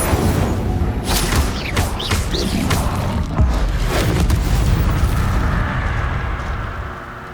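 A fiery Incendio spell blast in the video game Hogwarts Legacy, a loud roaring whoosh with crackling bursts and rumbling booms that slowly fades toward the end.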